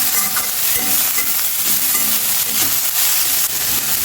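Tomatoes and sweet corn frying in a pan, a loud continuous sizzle and hiss with soft scraping and stirring knocks throughout, heard close with no talking.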